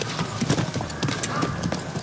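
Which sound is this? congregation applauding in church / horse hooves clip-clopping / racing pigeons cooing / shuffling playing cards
horse hooves clip-clopping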